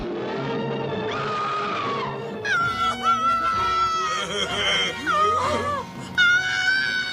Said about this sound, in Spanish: la mítica escena en la que grita mientras es raptada por el simio gigante